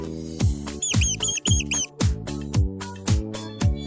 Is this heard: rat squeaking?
yes